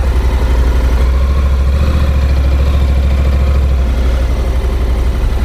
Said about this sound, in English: I'm just idling it forward because, well, I don't want to trade mirrors